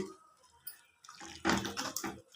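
Soaked, washed rice being stirred into a pot of water for mushroom biryani: soft swishes and sloshing grow louder midway, close to the pot, with no talking.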